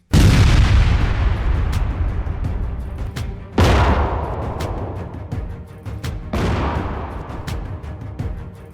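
Three heavy booming blasts of mine explosions and tank fire on a battlefield, each sharp onset followed by a long rolling decay, with smaller distant thuds scattered between them.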